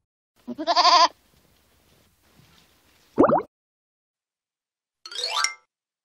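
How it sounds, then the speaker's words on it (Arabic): A goat bleats three separate times with pauses between, each a short, wavering cry, the calls clear and close against near silence. "ماعز"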